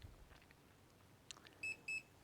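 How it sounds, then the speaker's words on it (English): Hubsan Mini drone controller sounding two short, clear electronic beeps in quick succession on automatic return to home, against a quiet outdoor background. "I got a beep here."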